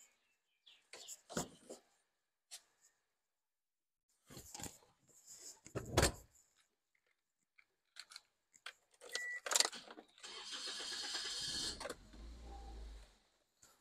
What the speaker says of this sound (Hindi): ये हमारी गाड़ी स्टार्ट हो गई